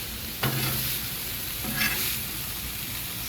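Broccoli sizzles steadily on a Blackstone griddle while a spatula scrapes and pushes it aside, giving a few sharp scraping strokes over the constant hiss of frying.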